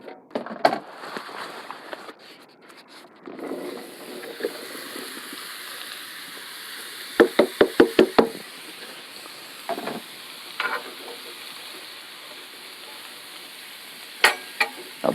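Vegetables for fajita nachos hit a hot pan and fry with a steady, soft sizzle, broken by a burst of sharp clatters from stirring or utensils against the pan.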